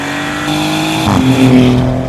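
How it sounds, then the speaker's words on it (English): A 2024 Maserati GranTurismo's V6 engine revs up loud and close, a smooth rising tone with a strong mechanical hum and a brief climb in pitch partway through, with no talking over it. "I think it actually sounds quite glorious in a V6 way nothing can compare to the V8 Maserati"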